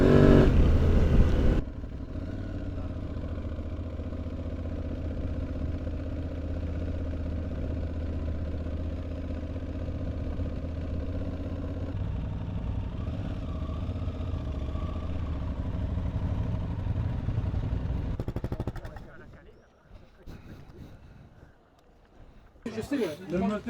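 A trail motorcycle engine runs steadily at a near idle, loud and continuous on a countryside track, then cuts away near the end, with speech over it.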